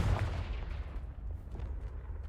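A Confringo blasting curse from the video game Hogwarts Legacy goes off as a heavy booming blast with a low rumble that tails away into a fading rumble, fairly faint overall.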